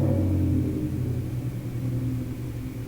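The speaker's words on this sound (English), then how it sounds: "motorcycle being rude" A motorcycle passes close by, a loud, steady low engine rumble filling the whole moment with no voices over it.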